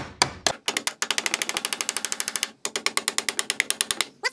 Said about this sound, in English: then you can hammer it off